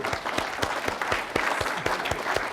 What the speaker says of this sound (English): just join me in giving him a round of applause